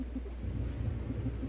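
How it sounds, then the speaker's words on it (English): Steady rain with low rumbling thunder from the horror game Distraint, a continuous dense wash of drops under a deep rolling boom, with no talk. "And it started raining."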